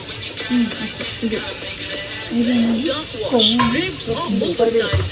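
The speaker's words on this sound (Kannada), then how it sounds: "ಇವಾಗ ಇದಕ್ಕೆ ಆಯಿಲ್ ಹಾಕ್ಕೊಂಡು ಸಾಸಿವೆ ಹಾಕಿ ಅರ್ಶಿನ ಸಾಸಿವೆ ಹಾಕಿ ಜೀರಿಗೆ ಹಾಕಿ" Mustard seeds, turmeric and cumin crackle and sizzle in hot oil in a home kitchen, a steady frying hiss running beneath lively conversation and laughter from several people.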